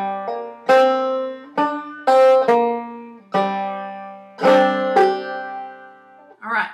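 Clawhammer banjo plays the final phrase of the old-time tune Cluck Old Hen, a handful of bright plucked notes and thumb strums ringing out one after another, close and clear with no voice over them.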